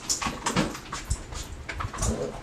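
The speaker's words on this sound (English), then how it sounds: "That's my damn dog acting a fool." A dog whimpers and whines indoors in a continuous, restless stream of high cries and snuffling, close and fairly loud.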